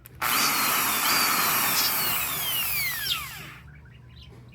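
An electric drill whirs loudly for about three seconds while working on a motorcycle elbow cover, its pitch sliding down as it slows and stops, followed by near silence.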